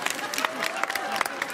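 A small live podcast audience claps in scattered, uneven bursts, with distinct individual hand claps at close range and murmuring voices mixed in.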